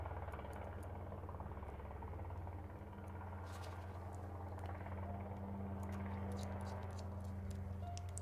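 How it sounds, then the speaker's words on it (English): A helicopter flying overhead, heard as a faint, steady, low rotor drone that continues throughout without a break. "sorry about the helicopter"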